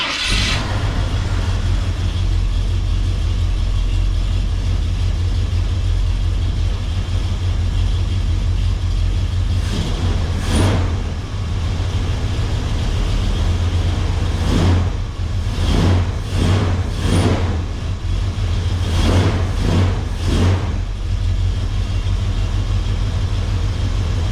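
An old red truck engine, freshly fitted with a new fuel pump, rumbles steadily close by, with a few brief revs and bursts partway through, and no talking.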